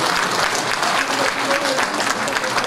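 An audience at an award ceremony applauds steadily in a dense, even wash of clapping that fills the room. Talk mixes into the applause.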